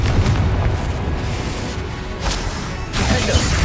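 Confringo blasting spells in Hogwarts Legacy go off as a dense run of loud, booming explosions, each crash rolling into the next without a break.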